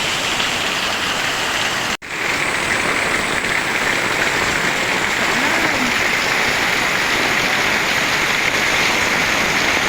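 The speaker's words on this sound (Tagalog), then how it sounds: "Kasi hindi kumigil yung ulan. Super lakas." Heavy rain pours in a steady, dense roar throughout, with a brief dropout near the start.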